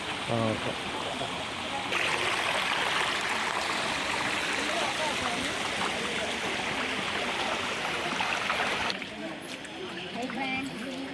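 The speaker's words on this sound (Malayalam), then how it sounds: "അപ്പോൾ ഇവിടെ പുഴ പോലെ ഒഴുകുന്ന വെള്ളം കാണിച്ചു തരാം." Water flowing like a river through the grounds of Kottiyoor temple, a steady broadband rush sounding close and fairly loud across the whole stretch, briefly dropping in level near the end.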